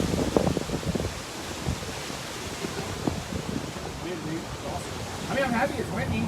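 Wind blows steadily into the microphone outdoors, a broad rumbling rush that buffets and swells over the whole stretch, with a person speaking faintly underneath.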